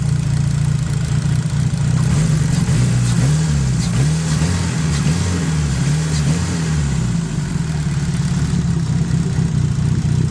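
A Dodge Neon engine, heard from its engine bay, revs up and down repeatedly in a loud, close, wavering drone with no knocking and no voices.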